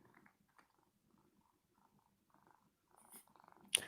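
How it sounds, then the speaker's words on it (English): A soft, low cat purr rumbles close by in quiet, rhythmic pulses, ending with a brief sharp noise. "She's purring up a storm."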